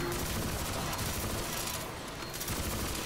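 Rapid automatic gunfire in the video game Crysis 3 Remastered, a dense, continuous rattle of shots at moderate level with a brief dip partway through.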